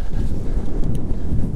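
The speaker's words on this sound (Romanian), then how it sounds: "vânt puternic" Strong wind buffets the microphone with a constant low rumble throughout, on a snowy mountain climb by electric bicycle.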